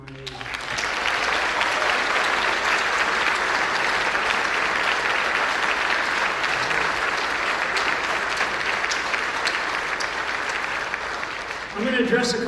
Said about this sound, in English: And a big round of applause for our POWs and MIAs.